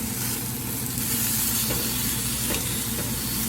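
Puerto Rican chicken skewers, pinchos de pollo, sizzle while cooking, giving a steady, close, loud hiss and crackle that continues without a break.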